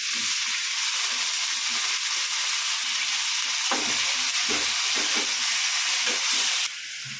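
Ginger garlic paste frying in a pan for semiya biryani gives a steady, loud sizzle throughout, with occasional stirring scrapes and no one talking.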